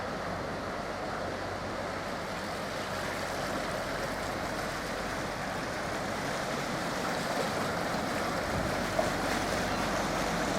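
Steady rushing water and a low engine hum run throughout as a boat passes through an open canal lock gate nearby, with no voices.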